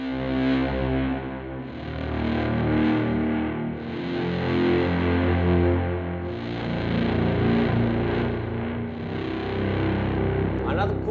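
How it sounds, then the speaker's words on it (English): Electric bass played through a volume pedal to swell notes like synth strings, with distortion and chorus-like effects, giving sustained, loud, continuous tones that fade in and out in slow waves, ending with a brief noisy flourish. "The first one is to use a volume pedal to emulate a synth string vibe."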